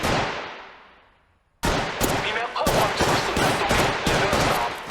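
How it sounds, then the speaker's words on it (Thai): Gunfire in the mobile shooter Apex Legends Mobile: after a fading tail, a sudden barrage of rapid, loud automatic shots bursts in and keeps cracking in dense clusters. "ฉันถูกพบแล้วกำลังโดนยิงนะ"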